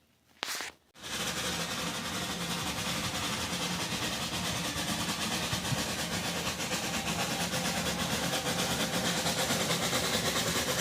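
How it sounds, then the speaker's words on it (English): After a short thump, a steam engine rumbles along steadily at a traction engine rally in Whitby, a loud continuous roar and clatter of a locomotive running nearby. "let's get these trains going"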